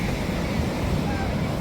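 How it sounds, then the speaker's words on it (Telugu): Large waves breaking at Chirala beach in the morning, a loud, continuous roar of surf mixed with wind buffeting the microphone. "అలలు పెద్దగా వస్తున్నాయి."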